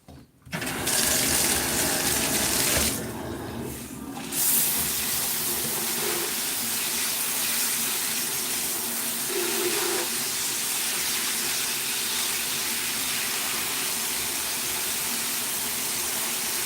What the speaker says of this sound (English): I'm just going to give this some water